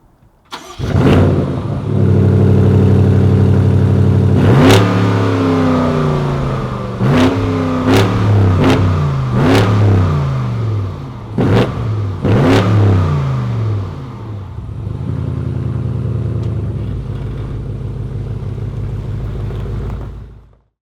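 A 2019 BMW M850i xDrive coupe starts up and accelerates hard on the road, loud and close, its engine climbing through several sharp gear changes before settling into a quieter cruise and falling away.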